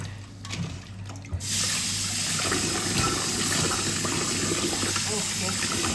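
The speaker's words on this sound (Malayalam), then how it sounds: "നന്നായിട്ട് നമുക്കൊന്ന് കഴുകിയും കൂടെ എടുക്കാം." Running water from a tap splashes over small crabs being washed clean for cooking, a steady close gush that starts after a brief quieter moment of handling noise, with no talk.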